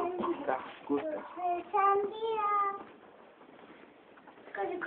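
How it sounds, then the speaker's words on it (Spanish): A cat meows repeatedly in short wavering cries, with one longer plaintive meow in the middle, close and fairly clear. "¿Es el gato llorón?"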